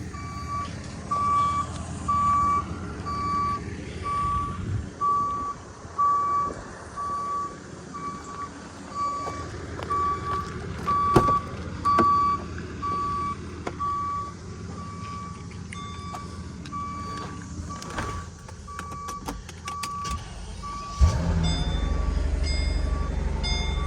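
A truck hauling a Mercedes SL600 away backs up with a steady, repeating reversing beep that runs through most of the clip over a low engine rumble, ending in a louder surge of engine noise.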